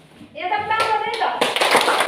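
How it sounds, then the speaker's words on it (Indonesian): A classroom group applauding, a brief burst of hand clapping that starts after a short spoken lead-in and stays loud to the end, mixed with voices. "Ya, tepuk tangan itu."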